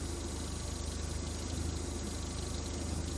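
A fire-damaged Mazdaspeed Miata engine idles steadily with an even, low rumble and a constant pulse, heard from close by with nothing else over it.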